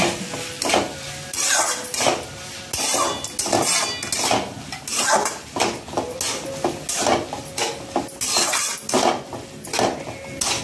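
Sabudana khichdi with fried potatoes being stirred in a pan, a steady run of close scraping and clinking spoon-on-metal strokes in a repeating rhythm, fairly loud and with no talking.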